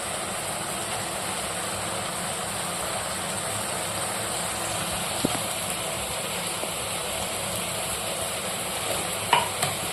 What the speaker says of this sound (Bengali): ধনেপাতাটা দিয়ে মশলাটা খুব ভালো করে কষিয়ে নেব